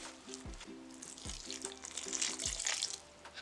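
Lukewarm water goes into whole wheat hops bread dough in short, separate pours, each a brief splash of liquid close by, with quiet pauses between them.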